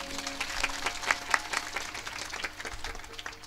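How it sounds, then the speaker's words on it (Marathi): Audience clapping during a Marathi Shiva Purana religious discourse, scattered claps rising and thinning over a few seconds, moderately faint with some room hum. "एकदा जोरदार टाळ्या वाजवा."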